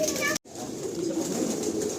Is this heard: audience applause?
no